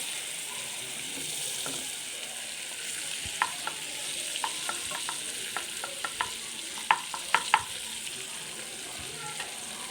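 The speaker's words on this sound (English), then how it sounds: "When we add the butter should not be overheated." Butter heats in a pan for paneer butter masala, giving a steady, gentle sizzle throughout, with a scattering of sharper pops and crackles growing more frequent toward the end.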